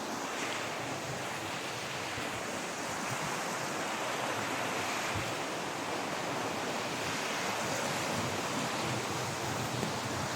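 A river on a forest walk among rocks and roots gives off a steady, broadband rush of flowing water, constant and moderately distant, with some wind noise and no talking.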